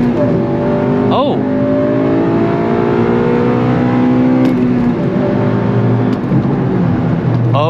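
A 2000s Honda Civic Si (8th generation) engine revs hard from about 3,000 RPM and climbs steadily in pitch through the gears, loud and close, with a brief shift partway and a voice over it.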